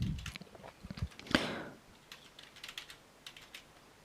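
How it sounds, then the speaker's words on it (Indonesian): Computer keyboard typing as a username and password are entered, with quiet, irregular clicks and taps, close and faint, in a hushed room with no talking. "Coba saya ketikkan."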